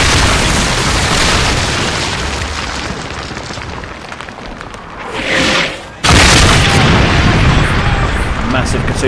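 Heavy Katyusha rocket barrage in Men of War, with a continuous roar of overlapping explosions that dips briefly, then slams back in loud and dense as the salvo lands, with speech in the clip.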